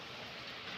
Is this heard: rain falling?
yes